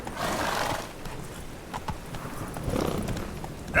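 Horse hooves clip-clop in a quick galloping rhythm, with a short whinny, as the horse Roach runs in The Witcher video game; the hoofbeats stay close and fairly steady, with a brief louder burst at the end.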